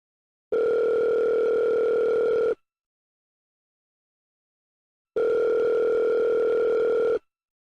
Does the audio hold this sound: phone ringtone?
yes